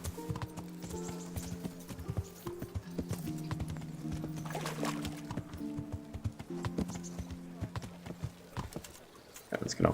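Horse hooves clop in the medieval video game Kingdom Come: Deliverance, a quick steady trot mixed with a faint whinny and game music tones, under quiet talk.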